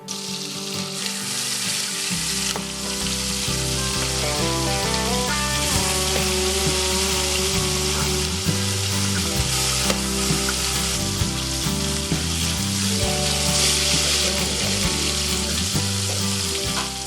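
Fish frying in oil in a busy restaurant kitchen in a Malappuram lunch home, a steady loud sizzle running throughout with occasional stirring and clatter and no talk.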